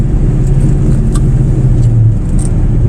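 A Cobra car driving along a winding mountain road in fall, its engine producing a loud, close, steady low rumble with no clear changes in pitch.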